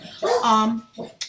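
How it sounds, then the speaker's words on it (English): A dog gives a short bark-like yelp with a brief whimpering tail, close by, lasting barely a second. "Excuse the noise from the dog."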